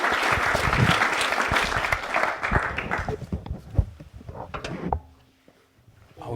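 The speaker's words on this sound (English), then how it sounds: "Give him a round of applause." Loud applause from the audience at a live cycling podcast show fades away over about five seconds, with some knocks and movement noise as it dies into near quiet.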